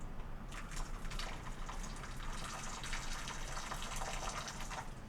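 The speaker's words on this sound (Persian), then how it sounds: "یه کوچولو آب جوش هم اضافه میکنم" Boiling water is poured in a thin, steady stream into a simmering fish stew in a pot, a soft hissing splash that runs for several seconds at low level.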